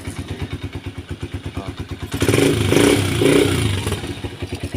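Motorcycle engine fitted with a converted 4-pin CDI, first idling with a steady thumping pulse, then revved louder and held before settling back to idle; close and loud with no speech.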